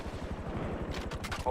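Automatic gunfire in GTA V roleplay, a rapid rhythmic burst of shots throughout, with a few sharper cracks near the end and voice chat mixed in.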